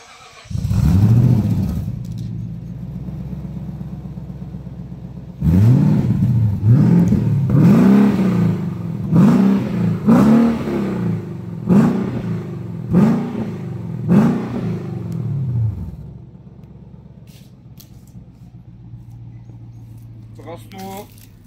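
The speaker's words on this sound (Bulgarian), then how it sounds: "X-Pipe, която вади доста добър звук, даже може да" Infiniti FX50 engine with an X-pipe exhaust: a short rev, a pause, then a run of about eight sharp throttle blips in quick succession, loud and close, ending in a steady idle.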